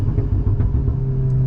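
A Stage 2 tuned Volkswagen Golf R drones close by while driving, with a couple of short, sharp exhaust pops crackling over the steady engine hum.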